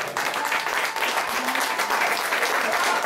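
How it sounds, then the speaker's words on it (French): An audience at an evening tribute concert breaks into steady, dense applause that holds at full strength throughout, with a faint voice briefly audible beneath the clapping. "J'aimerais qu'on fasse un tonnerre d'applaudissements pour Marcel ce soir"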